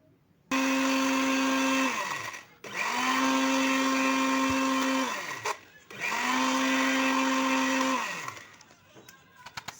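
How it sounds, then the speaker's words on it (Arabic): Electric spice grinder whirring loudly as it grinds dried garlic into powder, three steady runs of a few seconds each separated by brief stops. "صافي غادي نطحنها، طحنوها هكا في الطحانه ديال العطريه"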